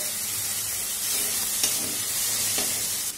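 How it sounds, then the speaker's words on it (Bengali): Tomato with turmeric, chilli powder and dry fruits frying for egg biryani, a dense loud hiss of sizzling oil with a couple of faint stirring scrapes, continuous throughout. "এবার একসাথে খুব ভালো করে নেড়ে নিতে হবে।"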